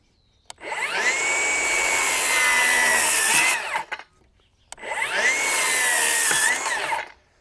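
Milwaukee rear handle circular saw fitted with a Milwaukee blade cuts through wood in two loud, close passes of about three seconds each, whining steadily under load with a brief pause between them.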